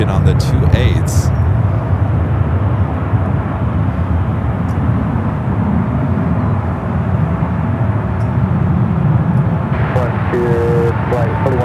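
A jet airplane on runway 28 at San Francisco International Airport rumbles in a loud, steady roar, with radio chatter and voices breaking in at the start and near the end.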